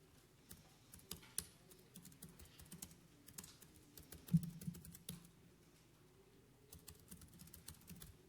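Quiet, steady typing on a computer keyboard, with soft irregular key clicks and taps running throughout and no voices, heard faintly at close range.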